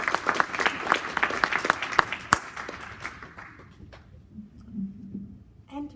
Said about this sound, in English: Give her an applause.